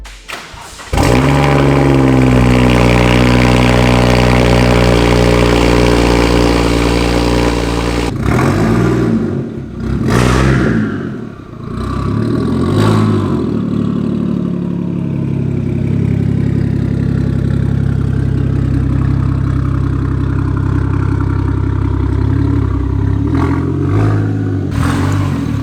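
A BMW 335i with an N54 engine and a Doc Race DR700 single turbo kit starts and settles into a loud, deep idle, then gives a few sharp revs and drops back to a steady rumble, close up.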